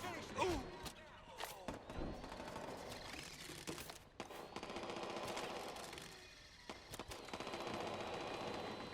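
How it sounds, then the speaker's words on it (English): Enemy gunfire in Watch Dogs 2 rattles off in sharp bursts and scattered single shots over nine seconds, loud and close at times, with impacts and thuds between volleys. "Wow, they're really shooting up the place."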